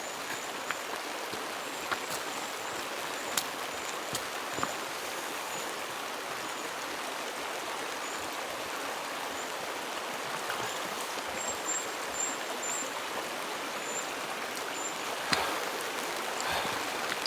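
Steady broadband rush of a clear New Zealand river stream flowing close by, continuous and even throughout with a few faint clicks and splashes on top, no voices.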